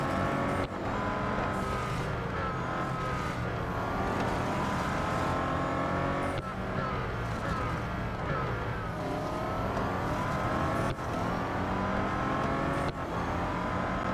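Race car engines roar steadily in Real Racing 3, with high revving whines, gear shifts and cars passing close around, loud and continuous across the whole stretch.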